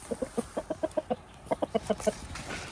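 A rooster clucks in a quick series of about six short, evenly spaced calls, pauses briefly, then gives another burst of five, fairly close and moderately loud, with light farmyard background and no talking.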